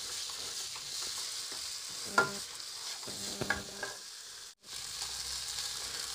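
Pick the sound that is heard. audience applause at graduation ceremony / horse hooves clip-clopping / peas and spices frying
peas and spices frying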